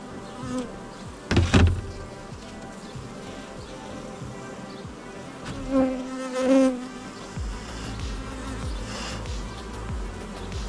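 Constant buzzing of many honeybees around a hive nearby, with a few louder passes close by and some faint clicks and handling sounds.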